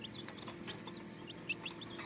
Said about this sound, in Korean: 세레마. 세상에서 가장 작은 닭이죠.